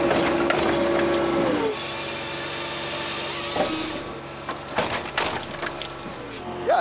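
A Dyna SC-15 firewood processor clamps and splits a log: a steady loud hydraulic engine drone with mechanical whine gives way to creaking, cracking wood and clunking bursts near the end.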